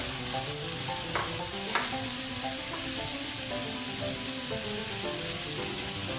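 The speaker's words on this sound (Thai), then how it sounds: "เดี๋ยวต่อไปเราก็จะเอาดอกกระหล่ำใส่ลงไป" Shrimp and cauliflower stir-fry in a hot pan for a keto dish, a constant close sizzle broken by a few sharp scraping stirs of the utensil, with no talking.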